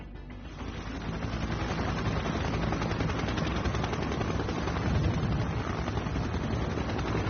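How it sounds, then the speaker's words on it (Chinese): A Z-20 military helicopter takes off, its rotor and engine roar rising from a quieter start into a loud, sustained, choppy rumble that runs throughout with no talking. "杜老师，直升机起飞了，这就是直20吧？"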